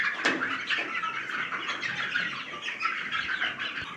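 Kadaknath and Sonali chickens cluck and call on a poultry farm, a steady murmur of many birds at moderate distance with no voices.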